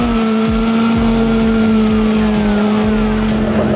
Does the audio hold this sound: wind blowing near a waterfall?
no